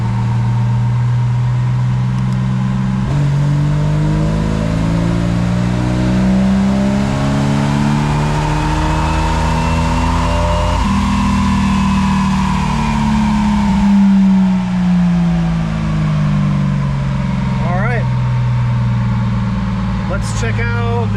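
Jeep Wrangler 4.0 straight-six with an exhaust header, revved up through the rpm range on a dyno, a loud sustained engine drone rising in pitch with gear-like harmonics for about twenty seconds.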